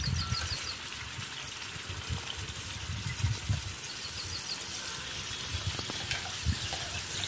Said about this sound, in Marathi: वाटण मस्तपैकी आपण भाजून घेणार आहोत